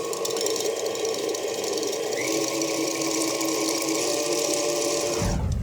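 An electric mixer beats eggs with sugar for madeleine batter, giving a steady, loud, buzzing motor whir that runs unbroken before cutting off abruptly at the very end.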